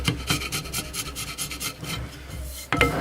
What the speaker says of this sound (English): All I'm doing is chiseling off this rubber silicone, RTV silicone, and paint